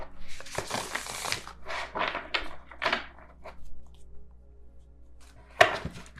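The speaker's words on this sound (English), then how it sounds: "I'm going to try to shuffle the Light Seers Tarot." Light Seers Tarot cards being shuffled by hand in quick riffling bursts with short pauses, close and fairly quiet, ending in a sharper final shuffle.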